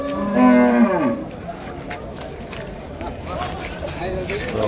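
At the Vaniyambadi cattle market, a cow lets out one loud, drawn-out moo near the start, followed by a busy crowded backdrop with people talking.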